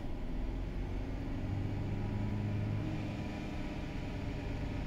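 A Mercedes-Benz E200 W212 engine holds a steady 3000 rpm in a workshop during timing-chain repair. It gives a constant, even hum and rumble with no talking.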